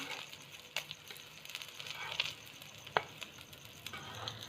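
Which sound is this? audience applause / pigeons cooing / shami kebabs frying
shami kebabs frying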